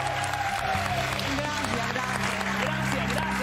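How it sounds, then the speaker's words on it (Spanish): A studio audience claps and cheers for an elderly woman guest on a Spanish-language TV show, a dense steady wash of applause with music or voices underneath throughout. "Un aplauso para ella."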